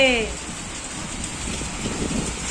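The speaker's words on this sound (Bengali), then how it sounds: "কিভাবে বৃষ্টি দেখো হচ্ছে বাপরে" Heavy rain pouring steadily, a dense even rush of drops on surfaces, with a brief voice-like sound at the very start.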